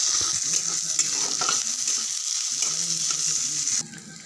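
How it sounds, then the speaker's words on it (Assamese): Onions sizzle in hot oil in a pan, giving a steady, close, crackling fry with soft stirring scrapes throughout, and the sound drops a little near the end. "এইখিনি তেলত এইখিনি পিঁয়াজখিনি ঢালি দিম। এতিয়া এইখিনি ভালকৈ পিঁয়াজখিনি ৰঙা হ'ব দিম।"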